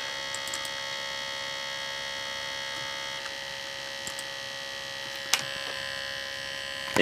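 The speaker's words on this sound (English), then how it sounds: "I don't think it should be making that motor noise" A Toshiba Satellite T1910CS laptop's disk drive motor whirs steadily as it tries and fails to read a disk, a constant close electrical hum with a few faint clicks and ticks, no voices.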